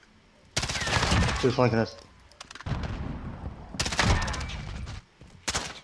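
Rapid automatic gunfire in a multiplayer shooter video game, loud bursts of overlapping shots in two main volleys with a short final burst, while a player speaks over the action.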